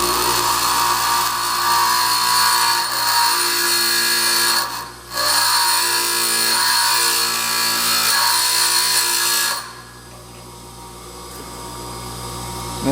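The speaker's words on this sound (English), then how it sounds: "Now this is a Momax Cobalt, so it's a little harder to grind than just plain high speed." A Momax cobalt high-speed steel tool bit is ground against a wheel with a continuous loud, rough grinding hiss that briefly dips once midway and drops in intensity near the end.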